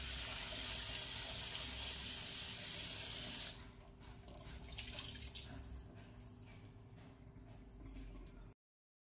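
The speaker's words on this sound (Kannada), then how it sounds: "2-3 ಸಲ ನೀರಿನಲ್ಲಿ ಚೆನ್ನಾಗಿ ತೊಳೆದುಕೊಳ್ಳಿ." Pumpkin pieces washed under a running kitchen tap: a loud, steady gush of water that cuts off partway, followed by softer splashing and rinsing, with no voices.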